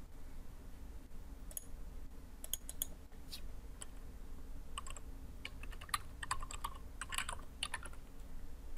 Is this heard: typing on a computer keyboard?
yes